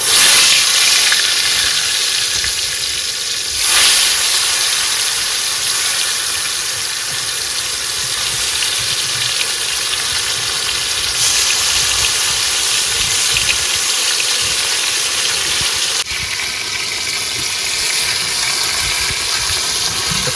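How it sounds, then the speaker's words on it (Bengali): Fish from the Sundarbans frying one by one in a hot wok over an outdoor fire, giving a loud, steady sizzling hiss that runs without a break, with a few sharp crackles and no talking. "কড়াই গরম হয়ে গেছে, এবার কিন্তু এক এক করে মাছগুলো ভেজে নেবো।"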